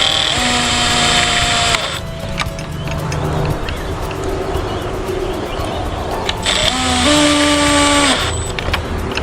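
A power drill pre-drills into a dropped wooden gate during a repair, with two high whining runs that rise and fall in pitch, separated by a rougher grinding stretch, close and loud.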